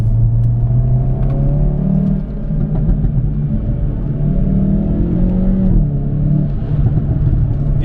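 A Hyundai i30N with a DCT gearbox accelerates, its engine a loud, steady droning rumble heard from inside the car, pitch rising and shifting as the throttle is worked through a corner.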